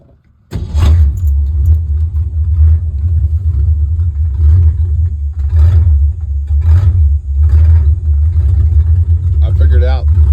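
Ford Galaxie V8 cranking and catching, then settling into a loud, steady idle with a lumpy rhythmic pulse, keys jangling briefly near the end and a voice talking over it.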